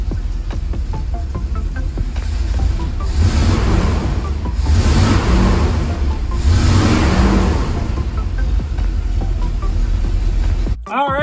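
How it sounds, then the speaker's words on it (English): A 1953–74 Corvette engine revs in a garage, loud and close, with throaty surges rising and falling in several waves before cutting off abruptly at the end. "Let's give it some revs."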